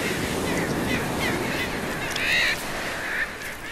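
A dense sooty tern colony calls in a constant chorus of overlapping nasal cries, with a louder nearby call standing out briefly over the background din.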